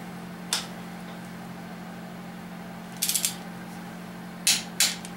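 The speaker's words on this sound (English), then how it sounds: "Okay, we're torquing up the rods now." A torque wrench clicks as connecting rod bolts are tightened on a 1999 5.7 engine during final assembly: a few sharp ratcheting clicks in short clusters over a steady low hum, fairly quiet, with no talk.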